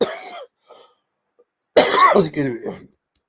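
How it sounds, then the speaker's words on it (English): A man with a cough and hay fever coughs close to the microphone: first a short hacking burst, then after a silent pause a longer, rougher run of coughs and throat-clearing. "We have a cough mixed with hay fever."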